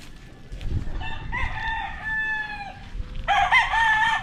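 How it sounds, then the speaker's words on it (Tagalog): Fighting cocks kept on a roomy outdoor farm lot crow loudly and close by, one long cock-a-doodle-doo after another with overlapping calls and a few clucks, while people talk quietly in the background. "daming manok nila dito"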